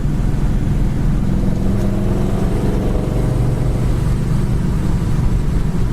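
A 1964 Pontiac GTO cruises down the road, its engine a steady, loud low rumble with constant road and wind noise throughout, no talking.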